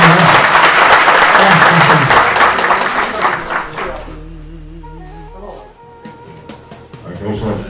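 An audience at an association breakfast applauds to welcome its president, loud dense clapping that fades out after about four seconds, followed by quieter room sound with a low hum and faint tonal sounds.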